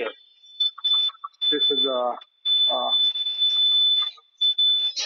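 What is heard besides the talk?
alarm beeping on an automatic capping machine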